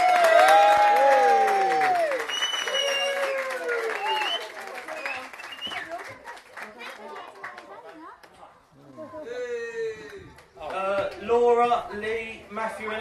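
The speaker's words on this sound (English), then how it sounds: "Big round of applause." Wedding guests applaud in a loud burst that fades over the first seconds, while voices talk and call out over the clapping and cheerful chatter of the gathering fills the rest.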